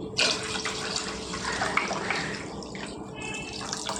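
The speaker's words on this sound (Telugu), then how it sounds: "ఇందులోకి మనం నీళ్ళు వేసుకుందామండి, సరిపడినన్ని." Water pours steadily into a mixer jar with a continuous splashing rush, close and fairly loud, with a few small clinks.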